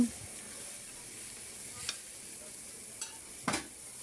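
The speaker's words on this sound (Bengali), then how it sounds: "এখন আমি মাছগুলো এখানে সব ঢেলে দিব এই তো মাছগুলো সব দিয়ে দিয়ে দিয়েছি" Pangas and tilapia fish heads dropped into boiling spiced water in a pot, giving a steady close sizzle and bubbling with a few sharp splashes and clatters near the end.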